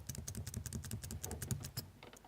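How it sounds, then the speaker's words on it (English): Fast, close clicking of keys on a computer keyboard, a dense run of quiet taps that thins out toward the end. "Because I'm typing."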